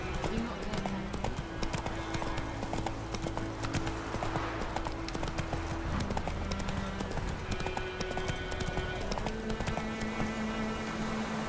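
In The Witcher 3, the horse Roach trots with steady rhythmic clip-clop hoofbeats on a road, continuous and moderately close, under a low droning music bed.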